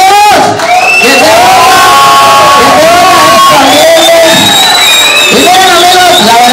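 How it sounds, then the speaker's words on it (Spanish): A nightclub audience cheers, whoops and shouts loudly and without a break, a dense close crowd roar with higher voices rising over it. "Si así es que se oiga fuerte el aplauso para ellos."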